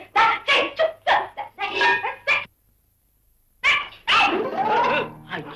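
Close, loud barking from a dog in a Tamil comedy film scene comes in rapid bursts, goes quiet for about a second, then resumes with a rough, growling bark.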